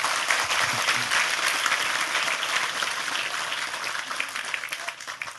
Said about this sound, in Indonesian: Sekali lagi tepuk tangan lebih keras untuk Tejo.